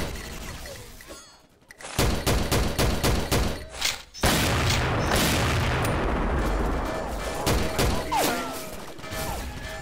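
Dense bursts of gunfire from a first-person shooter game, XSHOT, in a ghost mode battle. Rapid overlapping shots are mixed with booms and crashes, loud and near, with a short quiet gap before the firing resumes.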